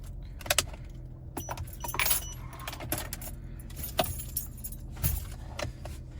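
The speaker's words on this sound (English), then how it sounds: "And then this is a key fob" Keys on a Cadillac CT6 key fob jangle in a few bright, irregular bursts of metallic clinking, close by, over a low interior hum with no talking.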